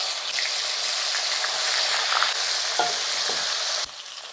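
Masala-marinated chicken fries in hot coconut oil with a loud, steady, close sizzle and occasional stirring, dropping suddenly in level near the end.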